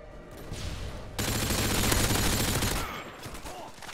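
Rapid automatic gunfire from Modern Warfare 2 crackles in dense bursts, building to a loud sustained volley in the middle before easing back to lighter shots, with no talk over it.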